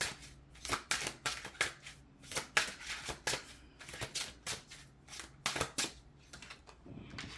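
Slippery tarot cards are shuffled up close in quick, papery riffles and flutters, a rapid run of sharp bursts with short pauses between them.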